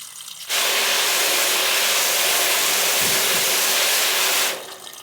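Water gushes steadily from a tap while hand-washed laundry is rinsed in a large household batch, a loud close hiss that switches on abruptly and cuts off near the end, with no talking.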